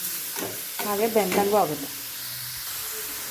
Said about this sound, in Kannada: ನಾವು ಕ್ಯಾರೆಟ್ನ ಎಣ್ಣೆಯಲ್ಲಿ ಸ್ವಲ್ಪ ಸಾಟೆ ಮಾಡ್ಕೋಬೇಕು